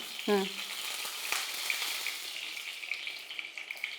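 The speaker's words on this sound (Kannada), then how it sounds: "ಈಗ ಎಣ್ಣೆ ಹಾಕೋಣ" Cooking oil sizzles in a hot pan in a kitchen, a steady, bright hiss that holds for about four seconds, with a brief clink near the start and no talking.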